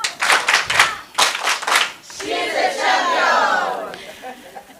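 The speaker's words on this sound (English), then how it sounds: "Please give it clap." Hands clap in a rhythmic burst at a training programme event, then the crowd breaks into a loud cheer and ululation, close and lively, all without anyone speaking.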